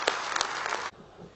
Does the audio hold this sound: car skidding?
no